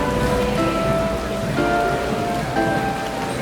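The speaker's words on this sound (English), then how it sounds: "take a little break from the rain." Heavy rain pours down outside in Barcelona, a loud, continuous dense hiss and patter on surfaces with a low rumbling undertone, steady throughout with no voices.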